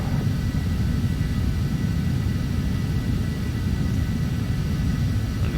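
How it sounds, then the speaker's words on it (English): Steady broadband jet-engine roar from a Phenom 300 business jet in the Prepar3d flight simulator as it banks through a turn, a constant loud wash with heavy low rumble and no speech. "Okay, the aircraft's making a turn."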